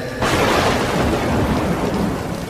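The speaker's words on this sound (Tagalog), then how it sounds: "Gumuguhit sa may kalangitan ang nakakapangilabot at nakakabinging pagkulog at pagkidlat." Steady, dense roar of heavy rain that starts abruptly and holds loud throughout, with low rumbling underneath suggesting thunder in a storm.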